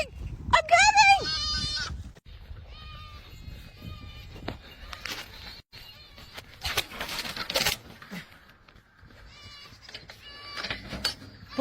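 A goat lets out a loud, wavering bleat up close near the start, followed by scuffling, shouting voices and further animal noise on a farm.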